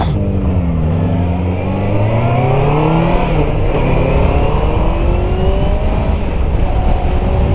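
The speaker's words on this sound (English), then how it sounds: "That's my friend Thorsten on his new Z900 Kawasaki, and I'm on the Honda CBF600." A Honda CBF600S and a Kawasaki Z900 motorcycle out on a road ride, with a loud steady engine drone and rising revs as they accelerate, continuous and close with no talking.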